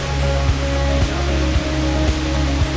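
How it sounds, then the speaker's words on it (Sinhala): Babarakanda waterfall in Sri Lanka, the country's tallest, sends up a steady broadband roar of falling water, with faint regular ticks and a low hum underneath. "ඔයාලට ඇහෙනවා ඇති වතුර සද්ද එහෙම."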